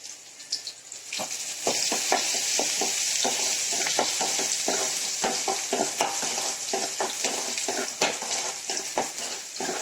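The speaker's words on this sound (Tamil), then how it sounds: "இப்போ வெங்காயம் நல்லா வதங்கட்டும்." Large onions sizzle steadily in a hot pan, with a spatula scraping and stirring in quick, repeated strokes close by.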